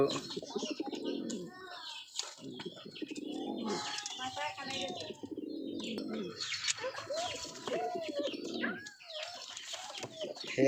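Pet pigeons, a recently re-paired couple, cooing and burbling close by in repeated rolling phrases, with soft chirps mixed in and a person talking over them.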